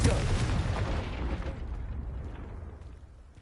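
A Confringo fire spell in Hogwarts Legacy bursts loudly at the start, a broad booming blast that rumbles and fades out over a few seconds.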